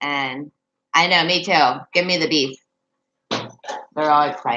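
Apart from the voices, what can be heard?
No everyday noise stands out behind the speech.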